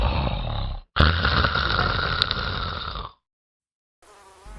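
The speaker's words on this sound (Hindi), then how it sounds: "अरे यहाँ पापा की खर्राटे सुनो," A man snores loudly in two long, rough, rasping breaths, close and buzzing. A pause follows, then a fainter breath starts at the end. No one talks.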